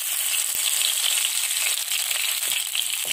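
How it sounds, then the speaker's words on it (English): Mustard seeds frying in hot oil while making Travancore-style rava uppumavu: steady bright sizzle with a few sharp pops and crackles scattered through it, close and alone. "When you hear the cracking sound of the mustard seed, it means it's getting fried."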